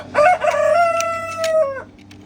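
A rooster crows once in a farm chicken pen, a loud close cock-a-doodle-doo that rises and then holds a long drawn-out final note before cutting off.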